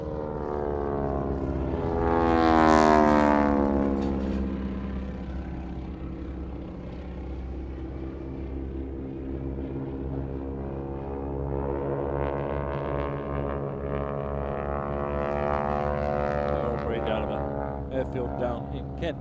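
Aerobatic team of propeller aircraft flying a display at Farnborough International Airshow, engine drone swelling loudly on a close pass, fading, then rising again as the planes return, with a voice talking over it.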